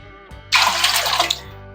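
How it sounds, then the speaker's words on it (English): Tap water runs into a pot for canning peach pie filling, a steady splashing gush that starts abruptly after a brief clunk, holds for about a second, then cuts off, leaving a quiet kitchen hum. "So I'm going to get water in this pot"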